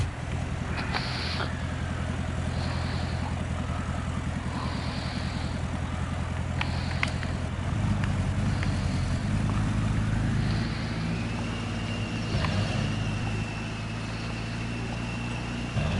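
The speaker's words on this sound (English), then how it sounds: "this one's a 500 horsepower diesel. That's a twin turbo, according to the stats." 500 hp twin-turbo diesel truck in SnowRunner, rumbling low and steady throughout, with a turbo whine rising partway through and a few short beeps and clanks over it.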